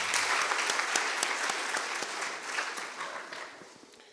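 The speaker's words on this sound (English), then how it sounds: "Give them a round of applause." Dense, sustained applause from a school crowd at a high school debate contest between Dagoretti High School and Mbooni Girls High School, loud and steady at first, then gradually thinning and fading.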